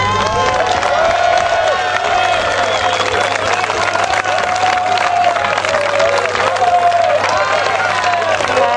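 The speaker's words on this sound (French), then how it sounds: "Et je voudrais que vous tous, les joueurs, vous vous applaudissiez mutuellement." Players at an inter-village games event applaud one another: loud, dense clapping and crowd cheering from a big group, with whoops and shouting voices mixed throughout at a steady level.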